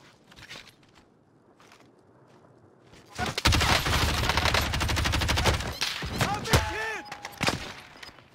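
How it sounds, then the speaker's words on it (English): Automatic gunfire in Call of Duty Warzone erupts after a quiet stretch of footsteps, a loud close burst of rapid shots with further bursts following, and a voice talking over part of it. "Those guys are just shooting at me."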